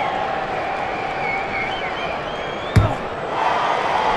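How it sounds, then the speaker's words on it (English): In the Rugby Challenge video game, a stadium crowd keeps up a steady, excited broadband roar through a rugby match, with one brief sharp thud partway through. "There's a real excited buzz around the crowd here."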